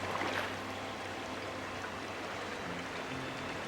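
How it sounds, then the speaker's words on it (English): Steady rushing water from a waterfall in the city-building game Anno 1800, a continuous broadband wash with no voices over it. "That waterfall."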